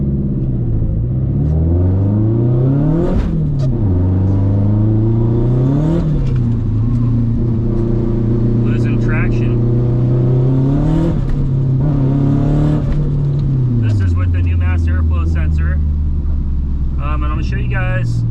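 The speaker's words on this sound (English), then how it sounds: "If I come off the gas here on the revs, the car will die" Nissan Silvia S14 engine revving on a test drive, rising and falling revs in repeated swells with a steady low rumble, loud and close from inside the car.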